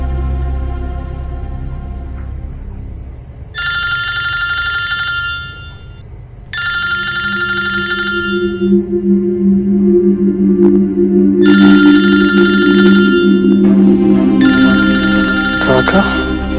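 A telephone rings out in bursts while a call is placed to Jatin, four separate ringing tones with pauses between them over a steady low background bed.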